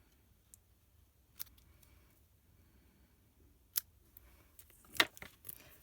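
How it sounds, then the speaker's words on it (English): Scissors snip the ends of ribbons on a handmade birthday card, a few sharp, separate cuts close by and fairly quiet against a still background. "I'm going to snip the ends of them ribbons a bit."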